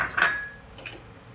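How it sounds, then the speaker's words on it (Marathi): A spoon or spatula stirring and scraping in a metal pan while garam masala is mixed into cooked moong usal. A bright clink rings out at the start, followed by a softer scrape, both close and brief with no talk. "मिक्स करून घेते गरम मसाला टाकून"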